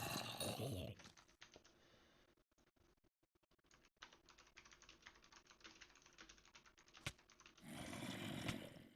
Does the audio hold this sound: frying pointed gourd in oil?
no